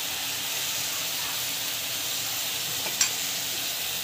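Eggplant sautéing in a pan gives a steady, close sizzle and hiss throughout, with one brief scrape of stirring near the end and no voices.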